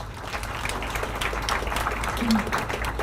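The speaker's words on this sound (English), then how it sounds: "We need to give some round of applause for Lorraine." Round of applause for Lorraine at a morning conference session, an audience clapping at moderate distance, a steady patter under a low hum with voices faintly audible.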